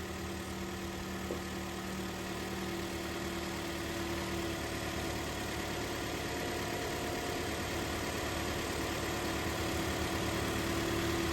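A 2019 Toyota Corolla engine idles steadily and close by, a continuous low rumble with a faint whine, unchanging throughout.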